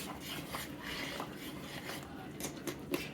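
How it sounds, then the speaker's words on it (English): Elbow macaroni is stirred in a pot of beef soup, giving faint, steady scraping and a few light clinks of a utensil against the pot. "And then you want to keep stirring this"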